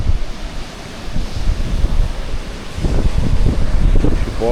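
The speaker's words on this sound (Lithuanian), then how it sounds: "Va, vėjas niekaip nenurimsta." Strong wind buffets the microphone over steady surf breaking on an open Latvian beach, a loud continuous roar of waves and gusts with no voices.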